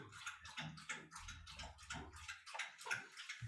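An office dog laps water close by, a run of quick, soft wet slurps and clicks in an irregular rhythm with no talk.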